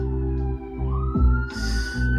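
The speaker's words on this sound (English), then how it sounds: "these sirens are fucking distracting as fuck" Police sirens wail outside, loud and steady with wavering, rising tones and a harsher burst near the end, heard alone without talk.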